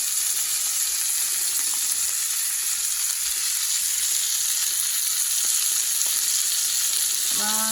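Steak sizzles steadily in a hot pan, a dense continuous frying hiss with faint spatters and small clicks, ending with a brief tonal clink of a utensil.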